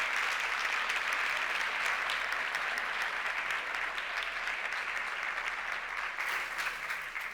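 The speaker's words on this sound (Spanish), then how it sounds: "Fuerte ese aplauso" Sustained applause from a conference audience at a shops forum in Murcia, a dense even clatter of clapping that carries on without a break.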